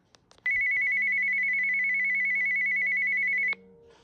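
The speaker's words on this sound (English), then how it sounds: "it's actually ringing any other walkie-talkies that are in channel 4" A walkie-talkie call ringtone sounds as one loud, steady electronic tone lasting about three seconds, preceded by a few faint clicks.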